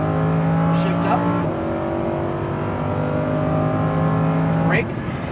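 Lamborghini Huracan engine droning steadily as it accelerates on a race track, heard from inside the car, with the pitch rising through gear shifts while an instructor talks over it.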